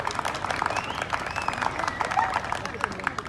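Crowd applause at an outdoor rodeo-style horse tournament, scattered clapping over a dense, busy background with voices mixed in, moderately loud and steady.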